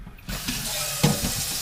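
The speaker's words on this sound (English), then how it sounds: "So, I guess I should fill it with water." Water runs from a tap into a sous vide container set up for cooking steak, a steady broadband rush that starts after a brief quiet moment and continues with small splashing fluctuations.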